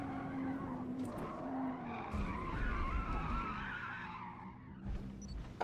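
Sustained tyre squeal from a race car spinning its wheels in Forza Motorsport at Brands Hatch, a screeching skid over engine rumble that swells in the middle and eases before a sharp burst at the end.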